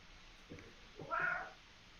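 A single cat meow, a short rising-and-falling cry midway through, in an otherwise quiet room.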